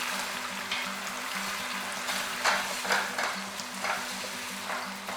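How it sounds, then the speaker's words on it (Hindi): Garlic ginger paste fries in a pot for chicken nihari, a steady close sizzle broken by the scrape and knock of stirring that rises now and then, with no voices. "अब इसमें लहसुन अदरक की पेस्ट शामिल कर देते हैं। इसको अच्छी तरह भून देते हैं।"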